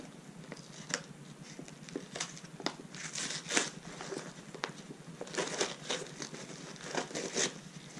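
A plastic package of beaver snares is cut open at close range, with soft crinkling, crackling and snipping in quiet, irregular bursts.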